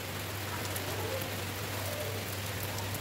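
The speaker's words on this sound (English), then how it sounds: "it's raining over here, my people." Steady rain falling, a dense even patter hissing on surfaces all around, continuous and fairly loud with no voices.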